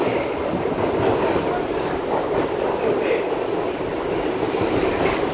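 A train runs on rails with a steady, loud rumbling roar and faint clatter of wagons, continuous throughout.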